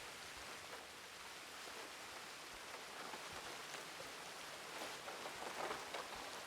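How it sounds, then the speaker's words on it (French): Steady rain falls outdoors in a soft, even hiss, faint and continuous with slight swells in intensity, and no one speaks. "On est marre de la pluie, là."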